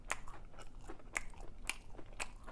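Crunchy bites and chewing of a Popeyes bacon cheese chicken sandwich with pickles, four sharp close crunches spaced about half a second apart, heard alone.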